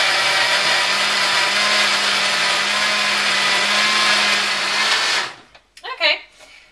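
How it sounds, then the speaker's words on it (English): A blender on its highest speed whirs loud and steady while pureeing a green smoothie, then cuts out near the end, followed by a few brief clunks and rattles. "I put my blender on the highest speed, and I'm going to start now"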